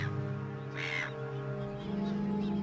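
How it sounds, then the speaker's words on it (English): Gulls call over a nature setting where herons nest and sea turtles are hunted, a single harsh cry standing out above a constant droning background, with a faint rumble toward the end. "Hungry gulls."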